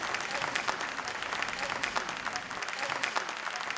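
At the MP Police Awards 2014 ceremony, a crowd applauds as a state home minister is invited to the stage. The clapping is continuous and evenly sustained, heard at a moderate distance without any break.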